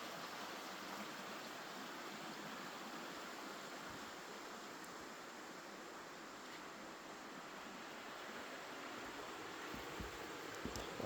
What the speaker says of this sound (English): You can hear Sandy Creek right below.